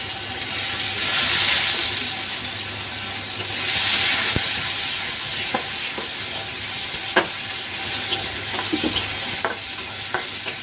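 Chopped onion sizzles in hot oil in a pan as the base for a crab curry, a steady frying hiss with scattered crackles and pops, close and alone without speech.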